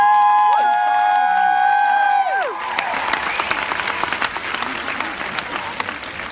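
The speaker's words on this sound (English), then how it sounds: "I always get the biggest applause when I call people weird" A large auditorium crowd at a leadership training talk bursts into applause and cheering after tonal shouts and whoops, the clapping swelling into a dense, loud, sustained roar that continues steadily to the end.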